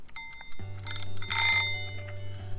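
A small timer bell rings out, bright and metallic, with a lingering tone, followed by a steady low hum in a quiet room.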